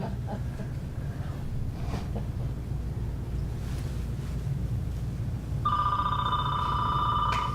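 An old-fashioned telephone bell starts ringing near the end, a bright metallic trill cutting in over a low background hum after several quiet seconds.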